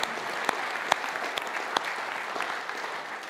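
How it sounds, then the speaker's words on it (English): A small audience applauds steadily, with scattered sharper claps standing out from the continuous patter. "Can we just give them a round of applause?"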